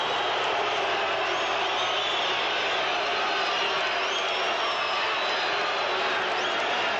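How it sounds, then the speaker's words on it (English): A boxing crowd roars with loud, sustained boos and jeers after a deliberate foul punch thrown after the bell, a dense wall of massed voices filling the arena without a break. "The blatant foul sent the pro-Bobby crowd into a frenzy of boos."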